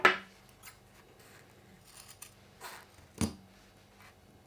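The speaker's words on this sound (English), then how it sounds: "If you have any excess of the zipper on either end, just trim it off." Scissors trim excess zipper tape at the ends of a sewn pouch: a few quiet, sharp snips with pauses between, close and alone in a still room.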